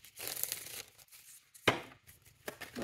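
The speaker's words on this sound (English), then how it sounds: "Need to shuffle." A deck of tarot cards is shuffled in several brief bursts, crisp riffling and snapping with a sharp slap near the middle and quieter pauses between, close and with no talking.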